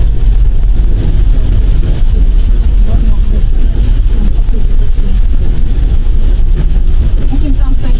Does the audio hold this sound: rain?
yes